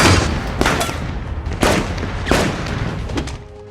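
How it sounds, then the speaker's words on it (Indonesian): Action-film gunfire and a blast as a thrown gas canister is shot, loud heavy booms repeating every half second or so over a dense rumbling background. "setelah Danny menembak tabung gas yang dilemparkan ke arahnya, dan disusul dengan tembakan Junior"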